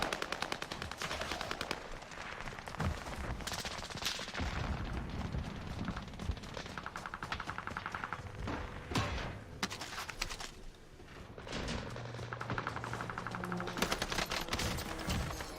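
Rapid SMG bursts from a hipfire submachine gun in Call of Duty Warzone on Fortune's Keep, with loud, dense rattling volleys, booms and intermittent pauses throughout.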